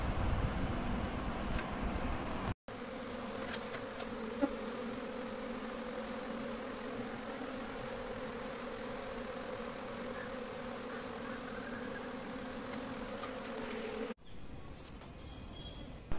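A honeybee swarm crowds into a wooden hive box behind its queen, giving a steady, dense, low buzz that holds unbroken and fairly close with no voices.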